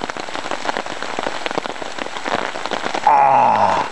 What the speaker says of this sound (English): We got the tarp up and here comes the rain.